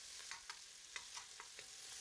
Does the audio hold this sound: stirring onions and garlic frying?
yes